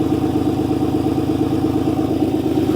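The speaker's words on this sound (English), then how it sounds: "there's an exhaust leak" Truck engine idling with an exhaust leak, a steady loud rumble with rapid ticking pulses, close by and alone.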